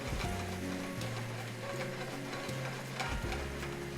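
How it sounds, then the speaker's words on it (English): Shrimp sauté in a restaurant pan over lightly browning garlic, a continuous soft sizzle and stir under a low steady hum of kitchen noise and faint tones, with no talk. "as the garlic starts to brown ever so slightly, we add our shrimp"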